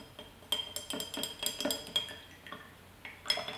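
A spoon stirs glycerin solution inside a glass jar for a homemade snow globe, giving a string of close, bright clinks and scrapes against the glass in an irregular rhythm, with no voices.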